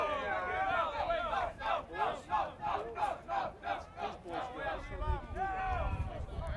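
A crowd at a high school varsity baseball game chants in loud rhythmic bursts, about a dozen regular pulses of massed voices, before breaking into looser cheering.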